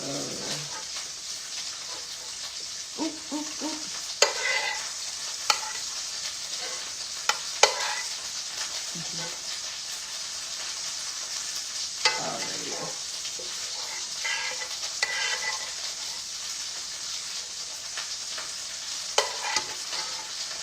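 Garlic fries in a kitchen pan, giving a steady, faint sizzle with scattered clicks and scrapes as the pieces are stirred and skimmed out, and a few brief knocks stand out over the background.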